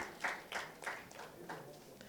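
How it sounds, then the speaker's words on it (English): Applause for a women panelist at a breakout session of a gender and inclusion conference on child nutrition, a few faint scattered claps from a small audience, heard at a distance in a quiet room. "Please, a round of applause for my women"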